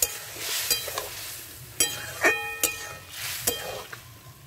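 A potato and prawn curry sizzles in a pan while being stirred, with sharp clinks of a utensil against the metal over a low bubbling hiss.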